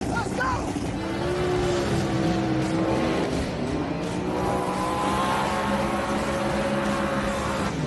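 Ford twin-turbo drag race car at a street outlaws race on a sketchy track, its engine roaring loud and steady throughout with rising and falling pitch, an announcer's voice mixed in.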